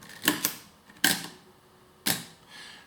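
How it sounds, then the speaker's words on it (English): Close, crisp mechanical clicks from a Chinon CE-3 Memotron SLR with M42 mount: a quick double snap, then two more single clicks about a second apart as the mirror and shutter open and close, in a quiet room. "the last two clicks you heard was the opening of the mirror and the shutter and closing of the shutter and the mirror"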